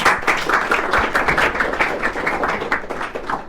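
Audience claps for a product demo at a Clarins keynote event, a steady, fairly loud patter of hand claps lasting several seconds with no talk over it.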